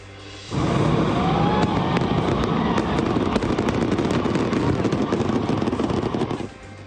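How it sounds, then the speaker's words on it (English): A fireworks display at a public event with spectators in the stands, a dense, continuous crackling barrage of rapid bangs and pops lasting several seconds at steady loud level, with crowd noise mixed underneath. "cheers turn to screams when a fireworks display goes awry, hitting people in the stands"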